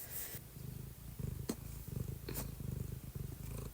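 A house cat purrs close to the microphone in a steady rhythmic rumble, soft and continuous with a couple of brief rustles.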